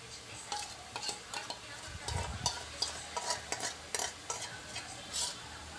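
Palak paneer curry frying and being stirred in a pan, with repeated scraping strokes of a spoon over a steady sizzle, close and moderately loud, no talking.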